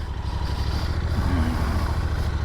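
A Royal Enfield Continental GT 650 motorcycle engine idles with a steady low rumble and throb, close by, running continuously throughout.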